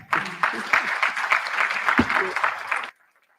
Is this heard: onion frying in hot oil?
no